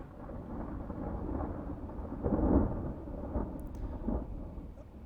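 Rain and thunder play back from a video, a steady wash of rainfall with low rumbles swelling midway, fairly quiet and alone with no talk over it.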